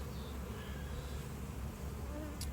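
A steady, dense buzz of honey bees humming together at a hive, continuous and fairly faint, with no voices.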